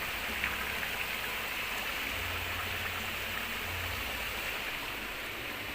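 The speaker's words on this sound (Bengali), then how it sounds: "দেখো, বাইরে বৃষ্টি হচ্ছে খুব" Heavy rain pours steadily outside, a dense, unbroken hiss that fills the whole stretch with no voices.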